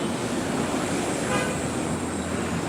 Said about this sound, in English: These buses.